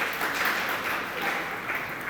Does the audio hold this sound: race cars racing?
no